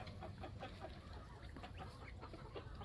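Guinea fowl calling on a farm, faint and somewhat distant, a series of short repeated clucking cries over a low background hum, with no talking.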